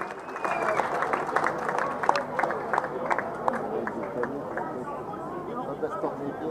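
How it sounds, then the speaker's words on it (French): Audience applause for a woman in regional dress, steady clapping from a crowd mixed with chatter, with someone speaking over it through much of the moment. "Allez, quelques applaudissements. Vous pouvez l'applaudir, oui."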